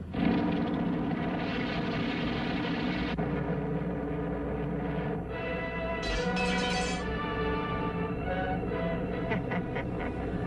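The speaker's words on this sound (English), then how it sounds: "Giant bomber being stolen. Take off immediately." Engines of a giant bomber aircraft taking off in a 1940s Superman cartoon, a steady loud roar that holds for the full length with a brief higher whine partway through, no talk over it.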